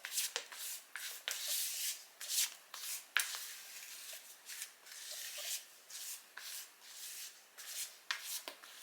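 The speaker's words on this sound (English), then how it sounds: "Then I'm going to go with my spatula. Scrapes down the sides." A spatula scrapes around the sides of a bowl of lemon pistachio cake batter, giving a run of soft, close rubbing and scraping strokes in irregular bursts with no talk.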